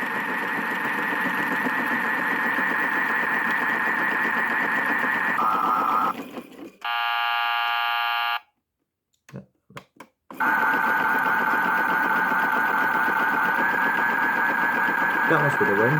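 A PlayGo toy washing machine from a laundry playset runs with a steady buzzing motor whir, pauses briefly with a changed tone and a few clicks, then resumes its continuous droning spin.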